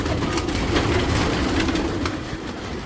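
Cooing from a set of Kasni pigeons just released from their loft, low and repeated against steady outdoor noise, nearby and without voices.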